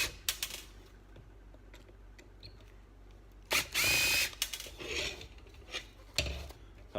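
An impact driver backs out Phillips screws from a Speedhut 4.5-inch gauge housing, with a loud, close burst of rattling hammering near the middle, then shorter bursts and small handling clicks in a quiet room.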